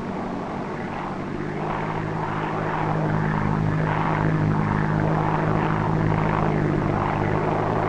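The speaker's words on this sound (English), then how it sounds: "the B-24 can operate on only two of its four engines" A four-engine Consolidated B-24 bomber in flight, its propeller engines producing a steady, loud, continuous drone that swells slightly and holds without a break.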